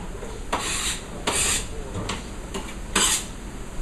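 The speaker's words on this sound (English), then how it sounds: "Okay, add our celery." Chopped celery tipped into a cooking pot, a few short clattering scrapes and rustles in bursts a second or so apart, close up with no talking.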